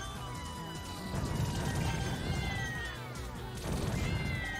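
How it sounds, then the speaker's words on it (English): In a shoot 'em up game, a cat-like Shikigami familiar gives repeated meows over dense, busy game music and explosion effects, the meows fairly prominent but mixed into the constant loud backdrop. "The cat meow is not part of the BGM."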